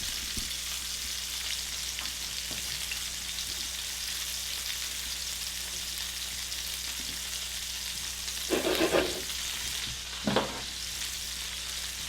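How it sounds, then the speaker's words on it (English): Seasoned backstrap sears in a hot cast iron pan, giving a steady, even sizzle with soft crackling, broken by two brief clatters near the end. "Gotta love a good cast iron sizzle."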